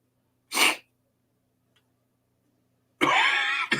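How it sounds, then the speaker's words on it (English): Two sharp, harsh bursts of coughing separated by a few seconds of near silence, the second one longer and more drawn out, close to the microphone. "I wish I could quit coughing."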